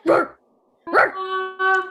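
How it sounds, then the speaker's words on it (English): A dog barks as a live sound effect in a community theatre staging of Stuart Little: two loud, close barks separated by a pause, the second trailing into a drawn-out whine. "Oh no, a dog!"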